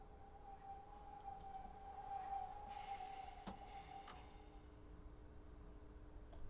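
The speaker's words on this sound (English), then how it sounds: "We're going to try and come in at a good enough speed to fit our train completely in the platform." A train pulls into the small platform at Milford on the Portsmouth Direct Line, a faint, steady motor whine and hum with a brief higher hiss partway through, and no voices.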